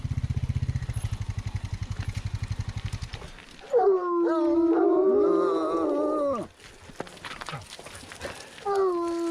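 Foxhounds howl together during hound exercise, a loud drawn-out chorus with wavering pitch that follows a rough low rumble, then fades and briefly starts again.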